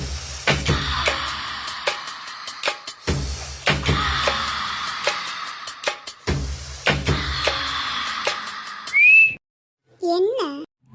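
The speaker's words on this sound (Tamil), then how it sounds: "என்ன காத்துலயே விசில் ஊதுறா?" A person whistles a few short, rising notes near the end, heard clearly after a busy, rhythmic stretch of background sound.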